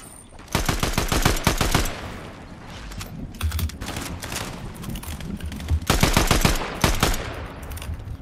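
Fortnite gunfire during a competitive FNCS Cup match: rapid, sharp bursts of shots in two clusters with quieter building and movement noise between, close and loud with no talking.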